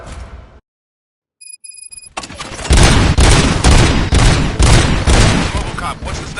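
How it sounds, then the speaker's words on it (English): Burst of movie gunfire from Robocop: after a sharp start, a short silence and faint electronic beeps, loud rapid shots and booming impacts crash in, dense and sustained, with a voice mixed into the chaos. "Gunshots?"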